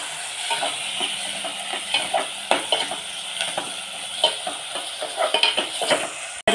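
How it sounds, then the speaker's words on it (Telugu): Tomatoes, onions and green chilies fry in a pan for gudlu mulakkada curry, a steady close sizzle under repeated spatula scrapes and taps, ending with a sharp knock. "టమాటాలు వేసుకొని బాగా మిక్స్ చేసుకోవాలి."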